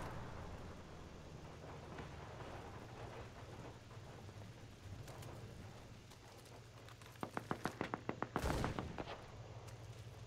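Gunfire in the WWII shooter Enlisted: a quick burst of sharp shots near the end, over a steady rumbling battlefield bed with distant booms throughout, followed by one louder crack.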